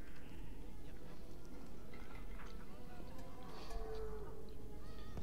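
Lego sheep bleating in a Lego video game: a faint, brief bleat around the middle of the clip, low in a steady game mix with background music and effects.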